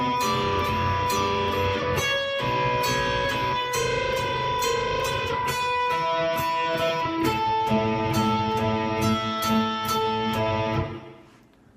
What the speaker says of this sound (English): Just 2 notes that you kind of play with an up and down stroke